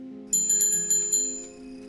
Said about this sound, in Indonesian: akhirnya ada yang ngebales dengan kring-kringin lonceng sepeda